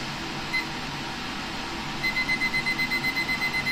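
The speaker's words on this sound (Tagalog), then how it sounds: "i-set natin yung timer ng 60 minutes" A digital kitchen timer being set for 60 minutes while herbal cough medicine boils, giving a short run of rapid, evenly spaced electronic beeps over a steady background hum.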